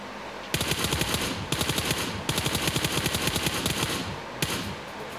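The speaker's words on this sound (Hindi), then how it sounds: "देख पूरा वो रहा फायर करा उसने" PUBG Mobile gunfire rattles out in loud, close bursts of rapid automatic shots, several strings separated by short pauses, with no voices over it.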